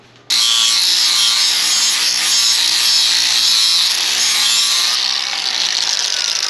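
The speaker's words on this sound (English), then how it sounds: "we'll add like an edge on that with the flap disc" Flap disc on an angle grinder working the edge of a cut input shaft makes a loud, sustained abrasive roar with a rough gritty texture, starting abruptly and running steadily for several seconds.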